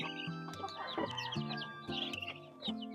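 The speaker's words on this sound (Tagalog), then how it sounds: "Tapos puntahan natin yung mga sisiw pa na bantam." Bantam chicks about three months old, a cluster of close, high peeping chirps in quick repeated bursts, mixed with soft clucks and low fowl murmurs in a backyard coop.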